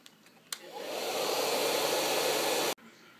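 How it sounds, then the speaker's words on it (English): A hair dryer blows on natural hair set in deep waves, a loud steady rushing roar that kicks in after a click, holds for about two seconds and cuts off abruptly. "so I'm going to use a dryer on the rest"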